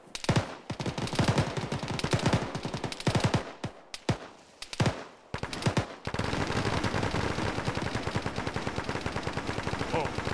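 Heavy in-game automatic gunfire from an Arma military battle, with rapid bursts and overlapping rifle and machine-gun fire in the first six seconds broken by short pauses, then a dense, sustained roar of continuous fusillade filling the rest.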